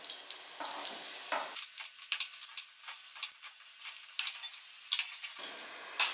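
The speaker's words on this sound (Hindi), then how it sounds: "जब तक यह कुरकुरी नहीं हो जाती तब तक हमें इसे चलाना है।" Gram-flour-coated okra fries in hot oil, a continuous crackling sizzle broken by repeated scraping stirs of a spoon in the pan, close and moderately loud with no voices.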